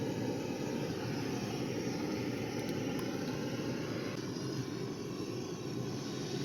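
A motorbike moves off into thick winter fog, its engine a steady broadband drone that stays fairly loud and even throughout, with no voices.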